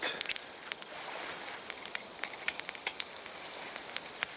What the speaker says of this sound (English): I'm gonna cook a fish. A perch.